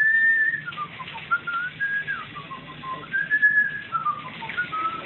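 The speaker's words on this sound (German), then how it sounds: "Hey, Sie da, während der Arbeit noch nicht gepfiffen." A person whistles a light, wandering melody of sliding, bright tones, close and clear over a faint murmur in the background.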